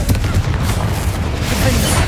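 Confringo blasting spell in Hogwarts Legacy, a dense rumbling barrage of booming impacts filling the whole stretch, loud and continuous, with game voices mixed in.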